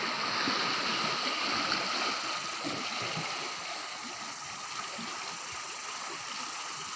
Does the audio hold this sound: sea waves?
yes